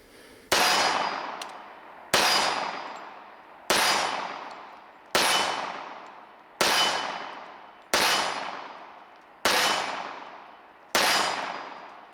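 Eight sharp pistol shots from a full-size Dan Wesson Vigil 1911 with a light aluminum alloy frame ring off steel targets, evenly spaced about 1.5 seconds apart, each with a bright metallic clang and decaying ring, no talking.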